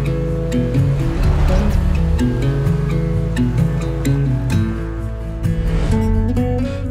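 Ocean surf washes against the lava rock shore of Laupāhoehoe Beach on a peninsula on Hawaii's Big Island, a loud continuous roar of waves with a strong low rumble.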